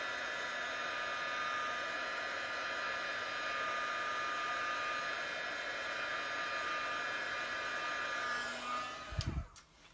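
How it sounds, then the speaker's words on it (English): A heat gun blows steadily on stencil paint to dry it, giving a loud, even whirring hiss with a constant tonal hum that cuts off abruptly near the end with a few clunks. "I am going to go in with a heat gun and just make sure that's totally dry"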